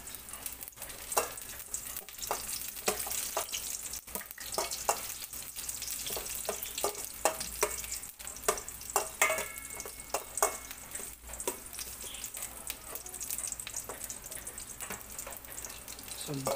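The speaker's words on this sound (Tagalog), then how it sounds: "Sunugin natin yung bawang." Garlic fries in a pan for a coconut-milk yellowfin tuna dish, with a steady crackling sizzle broken by the scrape and clatter of stirring throughout.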